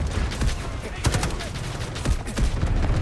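Rapid bursts of gunfire in the shooter game Delta Force, with repeated sharp shots in clusters over a dense, noisy battle backdrop, loud and close throughout.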